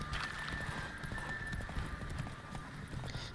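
Rapid clip-clop of a horse's hooves in The Witcher 3: Wild Hunt, steady galloping rhythm under a faint sustained tone and game ambience, with a brief whinny-like sound.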